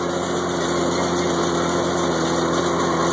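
An IH 656 tractor running a New Holland 315 hay baler, roughly 20 years old: a loud, steady engine drone with a constant mechanical hum and rattle, close by and without talk.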